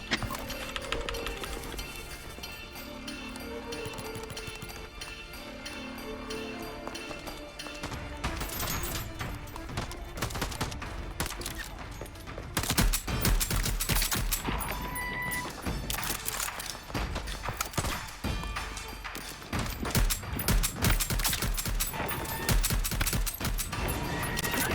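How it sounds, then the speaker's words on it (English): Repeated weapon fire from the video game Voidtrain, bursts of sharp shots and clanking impacts on little iron walls, fairly loud and sustained through a busy game soundscape with brief talk. "you can shoot them through the little iron walls. I shot them through them."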